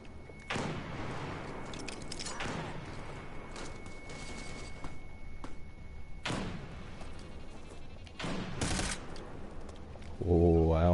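Gunfire and explosive thuds crash through a PS4 match of America's Army: Proving Grounds, arriving as several loud bursts with pauses between them, and a voice briefly joins at the end.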